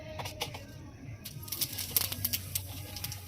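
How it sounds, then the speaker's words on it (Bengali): Cumin seeds sizzling and crackling in hot oil left in the pan after frying eggs, with soft irregular pops and spatters close by over a low background hum. "একটুখানি জিরে ফোড়ন দিয়ে দিলাম"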